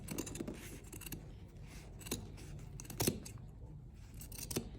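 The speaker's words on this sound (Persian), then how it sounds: "سمت پهلو رو قیچی میکنیم." Scissors snip through fabric along the side seam of a garment being sewn, giving quiet, close scraping cuts with a few sharper clicks of the blades.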